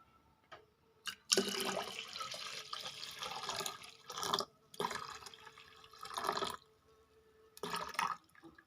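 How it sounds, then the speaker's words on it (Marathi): Water pouring into mashed, cooked toor dal in a kitchen, several splashing gushes of varying length separated by quiet pauses, close by with no talk. "आता आपल्याला जेवढं लागेल तेवढं पाणी टाकून घेते मी"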